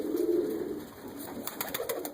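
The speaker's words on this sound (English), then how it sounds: "that's the cock pigeon from that yellow mottle cap" A cock pigeon of a yellow mottle pair coos in a loft, a low soft rolling call rising at the start and again near the end, with light shuffling and flutter sounds in between.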